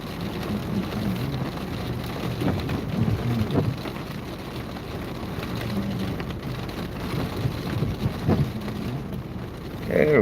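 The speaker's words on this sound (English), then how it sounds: "We'll have a little thunder." A thunderstorm in West Central Texas: heavy rain pounds steadily on surfaces while low rumbles of thunder roll beneath it, with a few louder swells and no clear voices.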